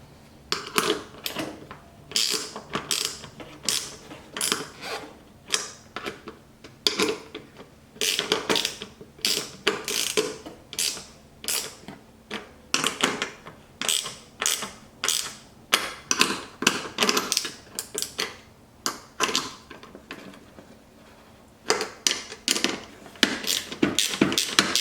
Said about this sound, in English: Get on them with a backup wrench here so they'll tighten up real good.